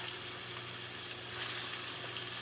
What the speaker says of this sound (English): I'm going to start frying these.